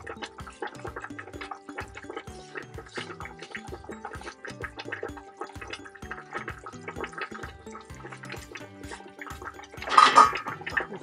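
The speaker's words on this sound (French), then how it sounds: "Donc on va verser les arachides." Ground peanuts for ndolé are poured into a cooking pot with liquid, giving irregular wet splashing and gurgling throughout, then a louder splash near the end, with no talking.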